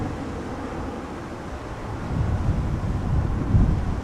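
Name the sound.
strong wind at Amsterdam Schiphol Airport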